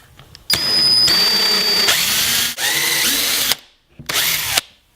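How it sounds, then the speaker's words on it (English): Power drill fitted with a countersink pre-drill bit boring holes into a 1x2 wooden board, two long high whining runs and a shorter third burst, loud and close with brief pauses. "I'm using a special drill bit to make my holes. It's a pre-drill with a countersink bit."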